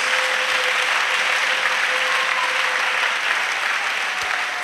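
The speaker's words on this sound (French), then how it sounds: "Let us clap for Jesus" A church congregation claps for Jesus in sustained, dense applause, steady and loud across the whole stretch, with a faint sustained tone running underneath.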